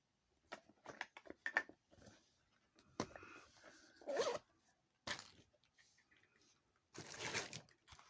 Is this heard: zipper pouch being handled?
yes